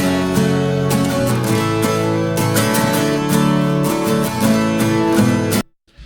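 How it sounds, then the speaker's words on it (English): Layered six-string and twelve-string acoustic guitars strum chords together in a country-pop track, a bright, full, steady wash of sound that plays loudly without a voice and then cuts off abruptly near the end. "So all the acoustics sound like this together."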